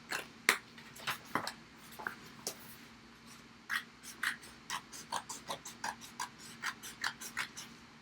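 Scissors trim excess Cricut Infusible Ink sheet, giving faint, close, crisp snips that quicken into a regular run of short cuts.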